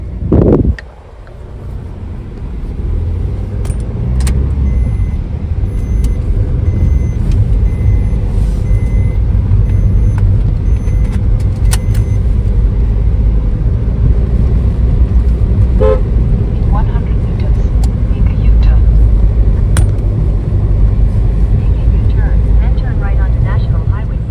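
Steady traffic rumbles along the Mumbai-Goa highway, with car and truck engines droning and occasional horn toots rising above the continuous roar; a voice talks over it.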